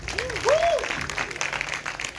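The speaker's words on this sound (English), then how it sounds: "Round of applause for that." An audience at a YouTube creators festival in Ghana gives a round of applause, a steady crowd clapping wash with a brief voice or tone rising over it early on.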